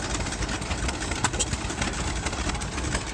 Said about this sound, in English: Here's a Waterboy engine.